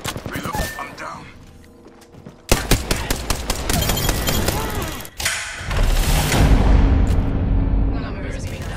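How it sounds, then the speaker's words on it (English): Rapid automatic gunfire in Apex Legends comes in dense bursts, with distinct single shots, mechanical clicks from reloading and heavy thuds, and game voices talk over the shooting. "They're firing on me."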